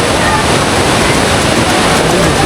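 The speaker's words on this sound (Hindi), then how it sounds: "केवल एक नदी है जो कि नेपाल और इंडिया को बांट रही है" A loud, continuous roar of a river at the India–Nepal border near Dharchula and its footbridge, rushing water filling the air with a dense, steady hiss.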